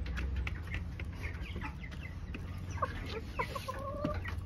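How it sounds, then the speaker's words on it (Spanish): Six-month-old chickens cluck and peck while eating feed, a busy mix of close clucks and short calls over a low background rumble. "Miren cómo empiezan a comer en sí los pollitos"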